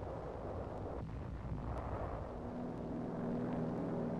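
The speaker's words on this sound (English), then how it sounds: "an air bombardment is softening up nearby Corregidor" Air bombardment over Corregidor in 1944, a continuous heavy roar of explosions and aircraft rumble with no distinct individual blasts, dense and loud throughout.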